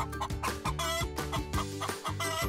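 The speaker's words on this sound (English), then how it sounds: "Where does a hen live?" A hen clucks repeatedly in a steady, close rhythm of short, bright calls, loud and alone with no talking.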